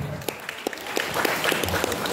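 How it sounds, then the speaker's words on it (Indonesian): Applause for gamelan musicians at a Balinese temple performance, scattered uneven clapping in a short burst, with some voices mixed in. "Tepuk tangan dong untuk penabuh gue."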